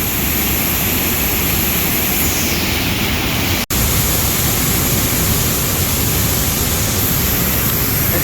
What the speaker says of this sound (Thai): เป็นแม่น้ำสองสายไหลมาบรรจบกันนะเป็นน้ำตกอีกสายอยู่นี่